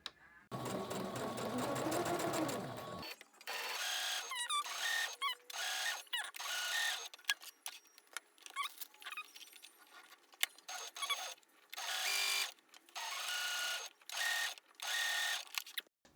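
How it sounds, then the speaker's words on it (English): Sewing machine stitching a homemade fabric face mask, including back-stitching: close, rapid mechanical whirring in repeated short bursts separated by brief pauses and small clicks. "I'm gonna back stitch."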